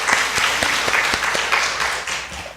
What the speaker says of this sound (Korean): 감사의 박수 올려 드리도록 하겠습니다